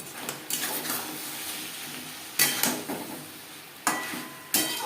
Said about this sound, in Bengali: ডাটার সাথে আলু বেশ ভালো করে মিক্সড করে দেবো হাই টু মিডিয়াম ফ্লেমে আরও তিন চার মিনিট নাড়াচাড়া করে নেব